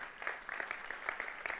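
Scattered applause from a church congregation, a faint, loose patter of a few claps that stays quiet and brief.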